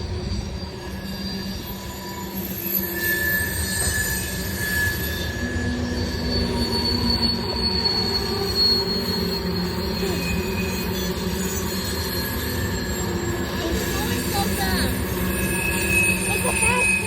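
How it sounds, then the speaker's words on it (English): A fast train passes with loud, sustained wheel squealing and rumbling rail noise throughout, close by, with a person talking over it. "It's a fast train to Lita."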